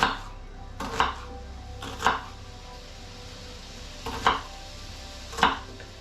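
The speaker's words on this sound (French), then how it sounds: "Je vais couper cette deuxième partie d'oignon." A knife chops through an onion on a board in a few sharp, close knocks spaced about a second apart, with a low hum underneath and no talking.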